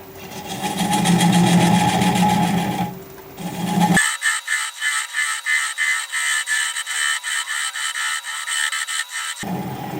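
Wood lathe turning a desert oak bowl, slowed from about 550 RPM toward 400, a steady close whirring hum that shifts partway into a rapid, evenly pulsing rhythmic cutting chatter.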